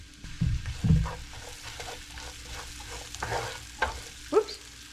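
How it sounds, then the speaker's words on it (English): Onions cooking in a little olive oil in a pan, a steady low sizzle with a few scraping stirs and clatters of a utensil near the start and end, no talk. "I'm going to add the onions in there"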